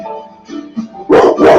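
A pet dog at home barks in the background, a few soft whines and yips giving way to two loud, sharp barks at the end.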